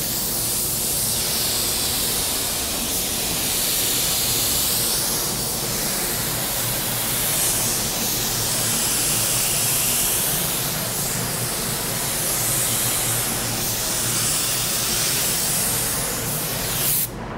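A paint spray gun hisses in one long continuous pass while laying an orientation coat, a loud, steady, close airy spray with slight swells in intensity and no talk.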